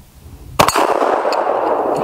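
A 7.62x54R bullet from a Mosin Nagant rifle strikes a steel target with one sharp, loud metallic clang that rings out and decays over about a second and a half, with no talk.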